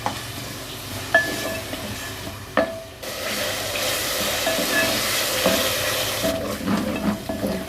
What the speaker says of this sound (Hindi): अब इन सब चीज़ों को हम उस वक्त तक भुनेंगे जब तक कि टमाटर और जो प्याज है सॉफ्ट ना हो जाए।